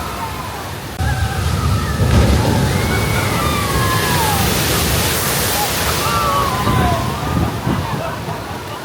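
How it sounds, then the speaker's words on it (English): A water ride at Universal Studios Orlando crashes down into a big splash. The sloshing, rushing water stays loud and steady, and cheering and voices mix into the roar. "The big drop, the big splash."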